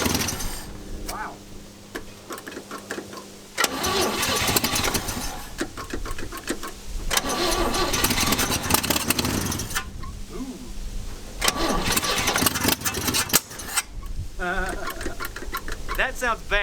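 Forgotten Chevy C10 pickup, sitting for decades, cranks over with a rapid mechanical chatter, then catches and runs roughly in loud bursts separated by brief lulls; close and harsh.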